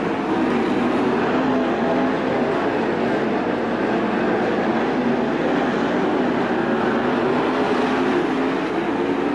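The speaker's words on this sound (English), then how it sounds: "Andrews has caught the back of the pack, and they are racing side by side." 410 sprint cars race side by side at Attica Raceway Park, a dirt oval, their engines forming a loud continuous roar with no breaks throughout.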